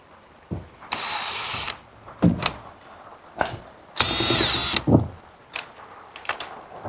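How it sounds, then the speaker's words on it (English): A drill with a 2-inch hole saw cuts a hole while an air fitting for a train horn is being installed. There are two sustained, close grinding bursts, with scattered clunks and knocks before, between and after them. "we got it 2 inches, so got a 2-inch hole saw here"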